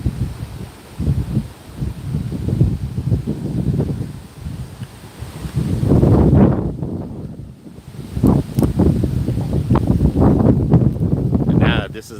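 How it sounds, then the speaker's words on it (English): Strong gusts from Hurricane Helene in Lakeland come in surges that rise and fall, buffeting the microphone and rustling leaves nearby, with a voice talking over the wind in places. "But now I hear the wind is over here now."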